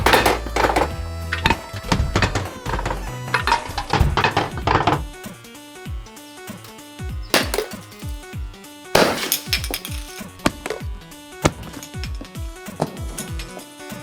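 A sword made from metal pipes strikes a can in a series of sharp metallic thunks and clanks, some hard crashing hits among lighter taps spread across the whole stretch, up close and loud.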